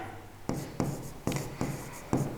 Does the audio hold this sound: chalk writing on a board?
yes